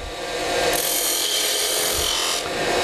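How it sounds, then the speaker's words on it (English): A skew chisel's toe scrapes steadily as it cuts a narrow cove into spinning wood on a lathe, a continuous close rasping hiss with slight swells in intensity. "So I use the toe of the skew."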